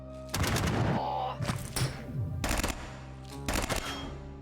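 Several bursts of gunfire from the turn-based tactics game Quasimorph, loud clustered volleys with short gaps between them, standing alone without talk.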